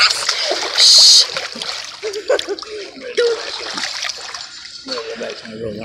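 A child jumps into water and lands with one loud, close splash, followed by the lighter sounds of water moving. Voices of children talking and calling out can be heard around it.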